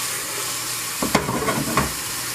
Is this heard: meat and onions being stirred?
yes